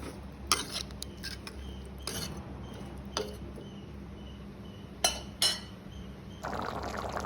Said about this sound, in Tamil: ரெண்டாம் பால் மூன்றாம் பால் ஊற்றிக்கொள்கிறேன்